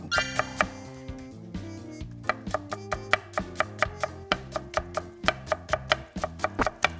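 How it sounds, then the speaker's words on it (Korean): A knife cuts Korean winter radish into thick julienne strips about 0.2 cm wide for cabbage kimchi, giving a quick, steady run of crisp, close board taps that fall over a bright musical backing. "너무 얇게 썰면 나중에 무채가 지저분해 보여서 네, 이렇게 좀 두께감 있게."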